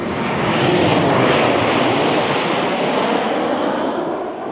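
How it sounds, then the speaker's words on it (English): An airplane flies overhead near a steakhouse in an outdoor shopping area, its broad, loud jet roar swelling and holding steady before easing slightly. "Here comes another plane."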